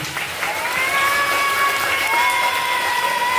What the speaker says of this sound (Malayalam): എനിക്കൊന്ന് കയ്യടിക്കോ നല്ല കയ്യടി